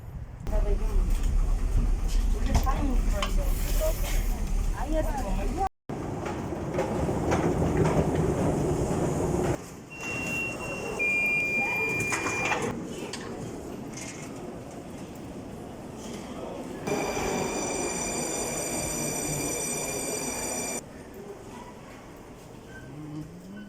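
A Moscow underground metro train rides toward Okhotny Ryad station with a loud, steady rumble and rattle of the cars, shifting sections and brief squeals, and a high electric whine near the end.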